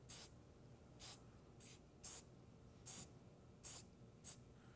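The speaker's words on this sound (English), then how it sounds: "And a little bit of accelerator." Short bursts of CA glue accelerator sprayed onto a wood workpiece clamped in a lathe by the tailstock center point, seven quick hissing puffs spaced about half a second to a second apart, close and crisp against a quiet shop.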